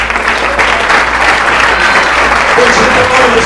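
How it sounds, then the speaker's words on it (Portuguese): Loud, sustained applause fills a church as the congregation claps during Sunday worship, a thick steady wall of hands with voices mixed in. "Aplauda o Senhor."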